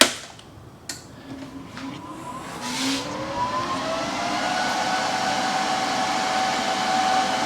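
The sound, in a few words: welder being switched on and running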